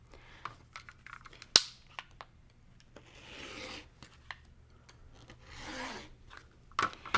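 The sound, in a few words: cutting Aida cloth around all four sides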